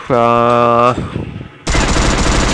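AK-98 assault rifle firing in Free Fire played on PC, loud bursts of rapid automatic gunfire separated by a short pause, with a buzzy synthetic tone underneath the first burst.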